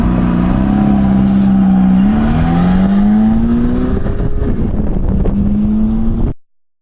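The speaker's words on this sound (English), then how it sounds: "my microphone will get sound of his exhaust" A car ahead, a 430, pulls away with a loud, sustained exhaust drone that rises and shifts pitch through the gears, recorded close from a following vehicle with wind noise before cutting off abruptly.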